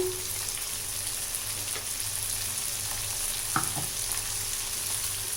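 Ground powder of roasted curry leaves, chana dal, urad dal, pepper and cumin fries in oil for a curry-leaf garlic kuzhambu, giving a steady soft sizzle with a couple of brief spoon scrapes and taps.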